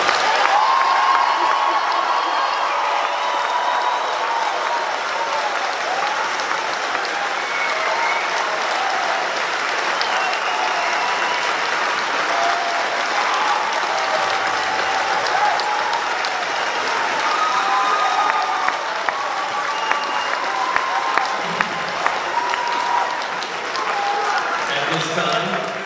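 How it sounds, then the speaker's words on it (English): A graduation crowd at a high school ceremony claps in a long, sustained round of applause with scattered cheers, full and continuous throughout, while a voice speaks over it at times. "let's go ahead and give our graduates a big round of applause"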